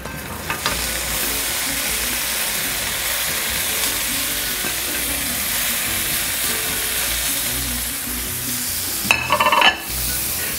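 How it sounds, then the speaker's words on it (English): Onions sizzle loudly in hot oil in a pan for burgers, a dense, continuous crackling hiss held close up, with a brief clatter of utensils near the end. "All right, we're going to put our onions in."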